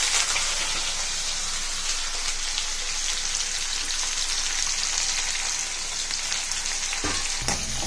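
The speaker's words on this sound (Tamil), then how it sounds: "வெங்காயத்தை நல்லா வதக்குங்க." Chopped onions fry in a hot pan with lentils and cumin for rava khichdi, giving a close, loud, continuous sizzle that holds steady with no voices, ending with a brief clatter.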